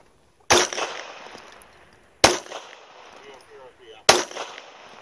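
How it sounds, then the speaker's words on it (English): Three sharp pistol shots ring out at clay targets outdoors, evenly spaced about every two seconds, each loud crack followed by a short decaying echo with quieter background in between. "we're going to show you how to shoot clays with a pistol."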